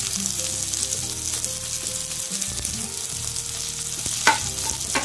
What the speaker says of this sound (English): After oil get heat, put the mustard along with 1 onion,